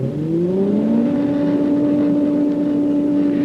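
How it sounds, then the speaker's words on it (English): A motor spins up to drive an air jet for a drag experiment, its steady hum rising in pitch over the first second and then holding loud and even throughout. "I'm going to start the motor now."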